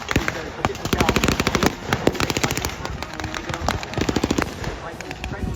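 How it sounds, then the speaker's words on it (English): Rapid bursts of machine gun fire rattle continuously at a World War II re-enactment with trench positions, the rounds overlapping in dense, loud volleys throughout. "Machine guns, but they're quickly upgraded in some cases to 50 caliber."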